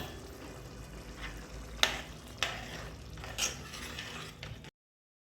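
A tomato and yogurt masala fries in a pan, a soft continuous sizzle broken by a few scraping stirs of a spoon, fairly quiet and close, with no talk.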